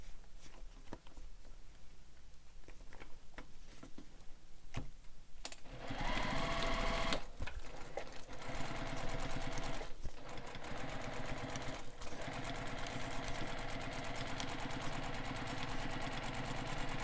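A sewing machine stitches a seam on a Leannan bag, running in a steady close-up whir that starts after a few quiet seconds with small handling clicks and continues unbroken to the end.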